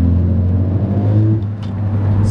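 A Ford Focus ST pulls hard in fourth gear around 2,500 RPM, its engine a loud, steady droning hum that dips briefly before carrying on.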